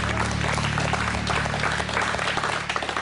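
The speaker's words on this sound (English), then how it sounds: "Give them a clap." Studio audience applause on the Australian TV reality show The Biggest Loser, a steady dense round of clapping that fills the whole stretch, with a low hum running beneath.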